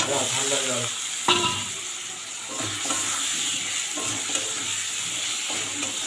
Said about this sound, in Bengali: এগুলো দিয়ে সুন্দরভাবে আমি নেড়ে ছেড়ে নেব